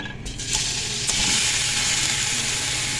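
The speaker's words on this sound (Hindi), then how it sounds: "इसको हमने ऑयल में कलर चेंज होने तक फ्राई कर लेना।" Boneless chicken pieces frying in hot oil, a loud continuous sizzle with a burst of crackling as they hit the pan, steady throughout with no talking.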